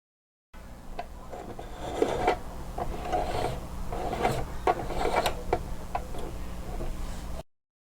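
A sewing machine hand wheel is turned by hand while a bobbin is loaded, giving soft mechanical ticking and light clicks in a steady quiet rhythm, close by with no talk.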